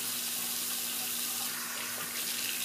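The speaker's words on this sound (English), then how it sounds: "Just rinse off my face" Tap water runs steadily into a sink while a face is rinsed after shaving, a constant close splashing hiss with no talking.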